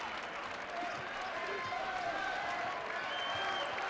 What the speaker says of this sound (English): Crowd coming to life a little bit here.